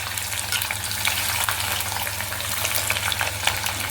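Chopped tindora (ivy gourd) pieces frying in hot oil, a close, steady hiss of sizzling with scattered crackles and no voices.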